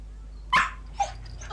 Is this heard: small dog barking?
yes